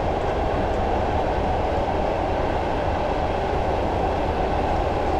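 A Class 101 diesel multiple unit coasts with the power idled on the Bishop Auckland to Wearhead route in Train Simulator 2015, giving a steady, even rolling rumble of wheels and carriage noise with no change in intensity.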